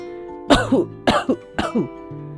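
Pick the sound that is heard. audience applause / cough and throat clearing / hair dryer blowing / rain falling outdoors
cough and throat clearing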